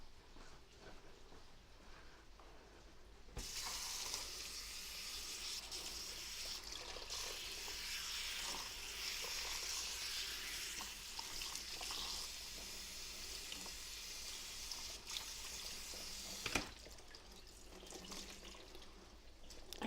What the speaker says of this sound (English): I'm gonna rinse this out.